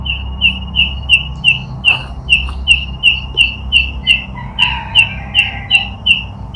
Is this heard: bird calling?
yes